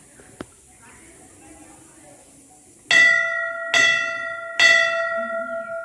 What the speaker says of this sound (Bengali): এখানে ঘন্টা রয়েছে